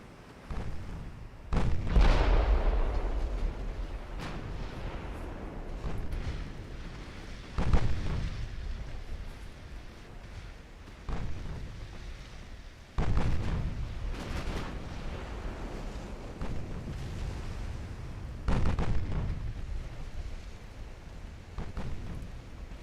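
Naval guns fire high explosive rounds in the Ultimate Admiral Dreadnoughts game, a series of heavy booming blasts spaced several seconds apart, each trailing off into a rumbling decay over a continuous low roar.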